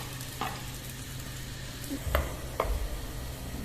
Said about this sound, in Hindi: अभी प्याजों को कर लेते हैं ब्राउन।